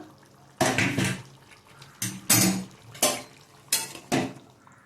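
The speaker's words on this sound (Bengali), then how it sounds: "5 মিনিট বাদে ঢাকনাটা খুলে দেখছি আলুটা সেদ্ধ হয়েছে কিনা" A metal lid clanks repeatedly on a pot of boiling potatoes in a home kitchen, several sharp close knocks and rattles spaced across a few seconds.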